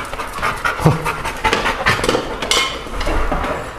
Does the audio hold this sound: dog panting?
yes